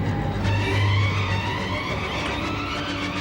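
A car being driven, a steady low engine rumble and road noise heard from inside, fairly loud and continuous with no obvious revving.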